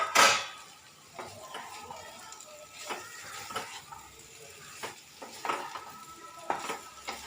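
Fried potatoes being stirred into soybean chunks cooking in a pan, soft sizzling under intermittent scrapes and taps of the spoon, one louder knock at the start, fairly quiet and without talking.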